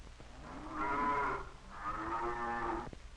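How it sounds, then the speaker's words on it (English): Cows on a farm give two long, low moos in close succession, each swelling and fading, heard clearly over a faint background hiss. "The cows are friends of Scotty's."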